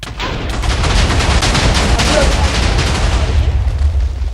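Rapid, dense gunfire and booming blasts ring out in a Minecraft-style game on the Dragon-Survival server, loud and continuous, forming a sustained barrage that runs the whole way through.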